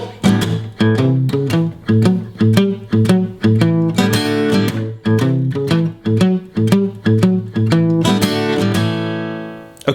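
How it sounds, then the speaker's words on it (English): A guitar plays a boogie woogie shuffle rhythm pattern, steady chugging notes in a swung rhythm with occasional strummed accents, close and loud with no voice, ending on a ringing chord. "the next level with our boogie woogie pattern"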